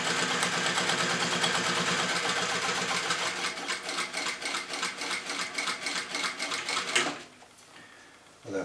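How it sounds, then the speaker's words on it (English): Sewing machine stitching car seat upholstery for a Scimitar seat, a fast loud mechanical clatter of the needle running steadily for about seven seconds, then stopping abruptly into near quiet. "using the reverse lever I'm just going to do a couple of back stitches and then forward stitch it all the way through"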